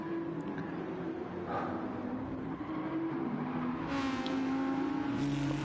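GT3 race cars in a racing video game, engines droning and revving continuously with a pass or two standing out, several cars close together at steady loudness.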